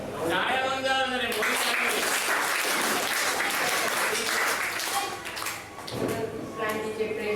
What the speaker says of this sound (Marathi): जरा जोरदार टाळ्या होऊन जाऊ.